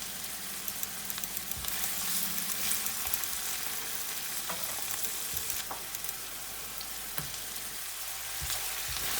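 Two tablespoons of Colmo curry paste sizzle steadily in a pan with garlic while being stirred for a tuna curry. A constant, dense frying hiss runs throughout with occasional soft clicks from the spoon.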